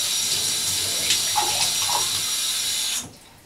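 Water running steadily from a tap or shower while hair is rinsed, a constant close splashing hiss that stops abruptly near the end.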